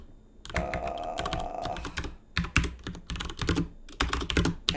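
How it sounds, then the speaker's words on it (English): Rapid bursts of typing on a computer keyboard, clattering keystrokes in quick clusters with short pauses between runs, fairly close and clear, with a steady tone humming underneath for the first couple of seconds. "I told people there was not going to be any keyboard sounds on the stream"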